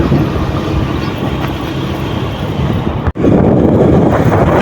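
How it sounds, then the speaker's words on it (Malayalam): Strong wind buffets the microphone on an open hillside in the rainy season near Vellarimedu, a loud continuous rumbling gust with a brief dropout partway through, no voices. "നല്ല കാറ്റുണ്ട്"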